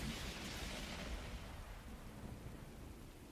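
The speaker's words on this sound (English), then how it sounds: "There was a sound like the sky ripping apart and a blinding flash of light." Thunder from a lightning strike in the video game The Hundred Line rolls as a loud, broad rumble with a crackling hiss, gradually easing over three seconds like heavy rain.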